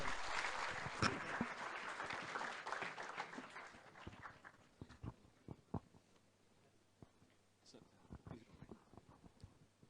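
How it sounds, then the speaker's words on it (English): Students applauding at an inaugural function, a loud burst of clapping that gradually thins and fades over several seconds, with scattered claps and a voice speaking over the tail. "Clap your hands for yourselves."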